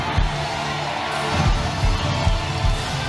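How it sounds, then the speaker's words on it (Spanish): A church congregation applauds and cheers during a Spanish-language prosperity-gospel sermon, producing a continuous, loud wash of clapping and shouts that fills the hall without pause. "Dale fuerte ese aplauso,"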